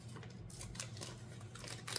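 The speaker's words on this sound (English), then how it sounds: "I find it easier to cut the strip and then cut it in half." Quiet snips of scissors cutting a paper strip in half for a seed-starting setup, faint and close over a soft background hiss.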